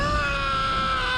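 A loud, sustained human scream held at one strained pitch throughout, alone with no talk over it, raw and intense like a comic on-air yell.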